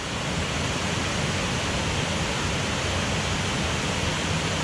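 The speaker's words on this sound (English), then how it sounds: "Got a waterfall in." A rain-swollen Yorkshire waterfall rushes in a continuous, broadband roar, close and unchanging for the whole stretch, with no talking.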